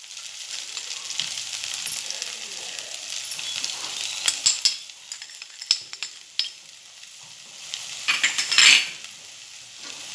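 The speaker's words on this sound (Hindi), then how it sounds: "और इसे इस मसाले के साथ मिक्स करूंगी।" Sweet corn upma with spices stirred in a pan over medium heat, a steady sizzle broken by repeated scrapes and clinks of a utensil against the pan, louder near the end, with no talking.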